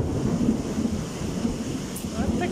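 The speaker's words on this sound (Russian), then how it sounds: "Сверкает, громыхает." Steady rain with low rumbling thunder, a continuous dense wash of sound throughout with no talking.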